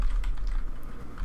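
Rapid typing on a computer keyboard, a close, steady patter of soft key clicks with no voices.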